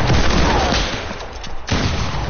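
Rapid SMG gunfire in a video game chatters in dense, loud bursts close by, dipping briefly before a sharp crack and resuming at full intensity.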